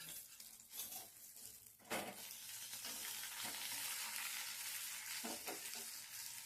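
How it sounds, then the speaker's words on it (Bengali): Two pieces of fish frying in oil in a pan, a continuous soft sizzle with a few scraping stirs and utensil knocks near the start, faint and steady with no talking. "আর এই দেখো মাছ দু পিস ভাজছি"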